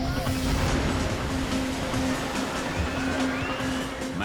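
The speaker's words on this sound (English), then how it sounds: "Giant waves with immense power." Tsunami ocean waves surging as a continuous loud roaring wash of water with a steady low drone underneath.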